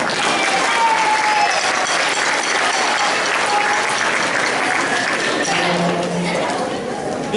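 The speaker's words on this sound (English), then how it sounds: "Give yourselves a round of applause." Audience applause fills a school fall concert hall at a middle school, steady and dense throughout, with scattered cheers and voices mixed into the sustained clapping.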